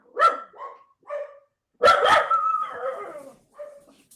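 Dogs barking at home in a run of sharp yaps and a longer excited volley with whimpering, close and loud, heard alone without talk.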